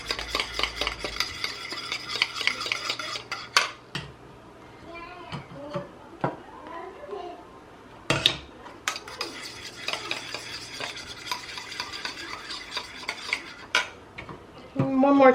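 Eggs being stirred while tempered in a pot, with repeated scraping and clinking of a utensil against the pot in uneven bursts, pauses between, and a brief sharp knock midway.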